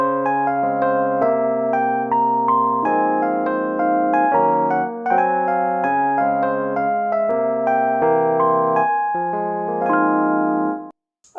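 A keyboard plays the jazz part of the song at full tempo, with steady chords and a bass line in a clear, close, continuous phrase lasting about ten seconds before stopping.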